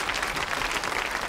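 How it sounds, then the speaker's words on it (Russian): Studio audience on a Russian TV word game show breaks into steady, dense applause, a continuous wash of clapping throughout the short moment with no voices over it. "И тоже аплодисмент"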